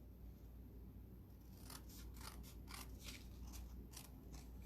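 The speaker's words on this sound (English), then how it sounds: "So I'm gonna grab my scissors, and I'm gonna make sure I go past that edge." Scissors snipping through card stock while crafting a shaker card, a series of about a dozen crisp, close cuts in a steady rhythm over a low background hum.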